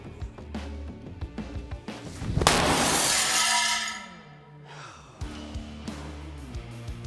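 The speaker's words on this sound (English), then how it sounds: "I'm gonna see if I can put this baseball through all 3 panes of glass" A thrown baseball smashes through three panes of glass in a window crash test: a loud burst of shattering glass with a long tinkling tail of falling shards, then scattered clinks and thuds as debris settles.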